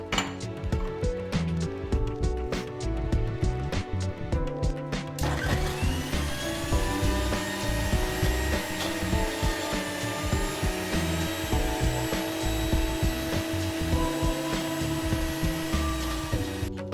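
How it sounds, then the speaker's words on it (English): Mixer grinder jar whirring as it blends coconut with half a cup of milk, opening with a few seconds of rattling, chopping pulses before settling into a loud, steady motor whine that runs to the end. "coconut in a mixer jar, half cup of milk. Firstly, we grind it."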